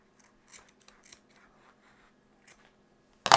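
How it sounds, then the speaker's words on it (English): Scissors snip through a shoelace in a craft project making self-writing quills: a few faint, close rustles and handling sounds, then a single sharp, loud cut at the very end. "we can take a pair of scissors and just cut the shoelace off"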